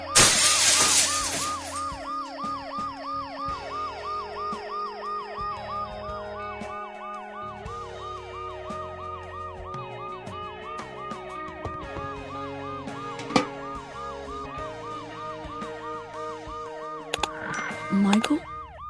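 In the video game Dead Synchronicity, a loud ambulance siren wails in rapid repeating cycles for the whole stretch, with a sharp crash of breaking glass at the start, under a background music score.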